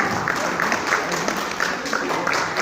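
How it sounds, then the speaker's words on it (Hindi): Crowd applause at a fun event in Lucknow as a singer is called up for a solo song, brief lively clapping with some voices mixed in. "जोरदार तालियों के साथ।"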